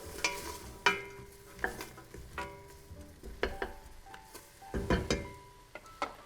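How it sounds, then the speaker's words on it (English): A spoon stirring onions with pepper and turmeric as they cook in a pot, giving repeated scraping, clattering strokes at an uneven pace with soft sizzling underneath, close and fairly loud. "Give it a little stir, get it all over the onions."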